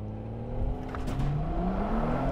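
An older BMW M135i's six-cylinder engine revs hard from low idle and climbs steadily in pitch as the car launches from a standstill, loud and close.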